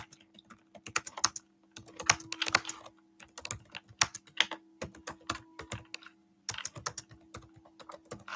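Fast typing on a computer keyboard, close by, with irregular bursts of key clicks separated by brief pauses over a faint steady hum.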